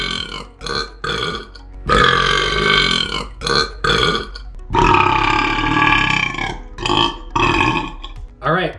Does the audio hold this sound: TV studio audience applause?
no